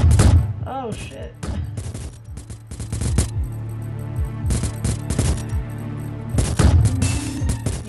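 Rapid bursts of gunfire ring out from a weapon in the iOS iPhone video game Glitchskier, loud volleys with sharp booms and thuds that stop and start irregularly, with a player's voice heard in between.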